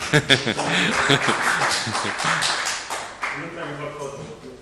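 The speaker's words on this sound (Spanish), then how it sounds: "Bueno, un aplauso para ellos, claro que sí." An audience at a university talk in Alicante gives a round of applause for two guests, brothers; a few sharp claps start it, then steady, fairly close clapping builds and thins out while voices murmur underneath.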